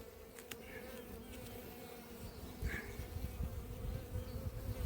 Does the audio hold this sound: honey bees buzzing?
yes